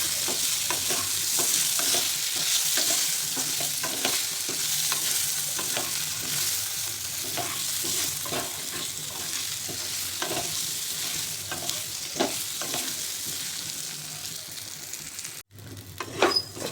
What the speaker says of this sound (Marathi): आलं लसूण पेस्ट परतलेली त्यामध्ये घालायचे भरलेली वांगी.